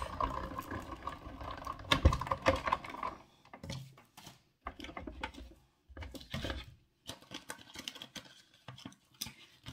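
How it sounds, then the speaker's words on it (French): A scrapbooking cutting machine runs in short mechanical bursts of clicking and whirring, separated by brief pauses, fairly close and moderately loud, with no talking. "je vais le repasser dans la machine"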